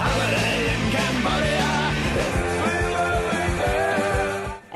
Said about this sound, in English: And that is the sound of punk.